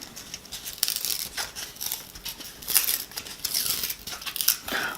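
Close, dry crinkling and tearing as paper is peeled off styrofoam, a run of uneven rustles and rips with brief pauses, no voices.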